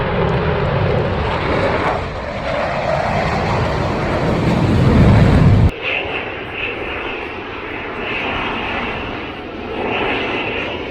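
US Navy Blue Angels jets roar overhead at an air show. The engine noise is loud and sustained, builds, then cuts off sharply partway through, and a fainter jet rumble continues afterward.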